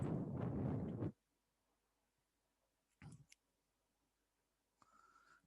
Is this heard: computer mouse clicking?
yes